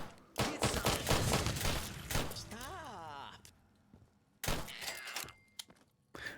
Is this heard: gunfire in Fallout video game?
yes